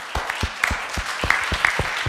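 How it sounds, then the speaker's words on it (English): An audience at a crowdfunding panel discussion applauds the organizers, a modest round of clapping from a small group with distinct individual claps, close and steady for a couple of seconds, no voices over it. "So a round of applause for them."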